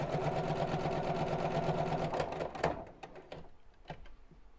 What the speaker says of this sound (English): Sheila loves the sound of a sewing machine.